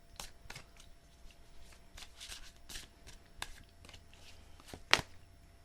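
Tarot cards being shuffled by hand in two bursts, soft riffling and tapping at close range, ending with a sharper snap near the end, with no talking.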